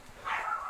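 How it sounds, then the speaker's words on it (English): A pet dog gives a short bark or yip, faint and distant, a single brief burst with no talk over it. "Just sometimes they get really noisy, which I mean that's just a dog thing"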